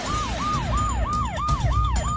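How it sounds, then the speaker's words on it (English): Ambulance siren wailing in a steady, repeating rise-and-fall cycle about every third of a second, loud and close over low road and traffic rumble, with no voices. "They took him in an ambulance over to the hospital."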